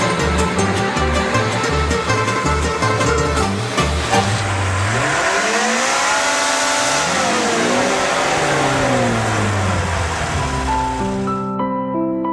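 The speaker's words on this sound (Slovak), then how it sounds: "Trošku otáček." Car engine revving in a garage, a tired motor without power steering, heard as rising and falling rev sweeps under a loud bed of music and noise, ending abruptly.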